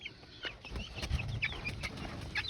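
Chickens cluck softly and sporadically in a flock that includes a black Cochin rooster, with faint scattered calls and low rustling nearby.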